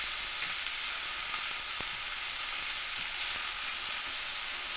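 Foraged monsoon wild vegetables fry in a pan, giving a steady, close hiss and sizzle throughout, with a faint stirring scrape now and then and no voices.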